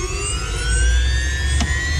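Starter on a gas turbine boat engine spins up with a loud rising whine of climbing tones over a heavy low rumble, close and continuous.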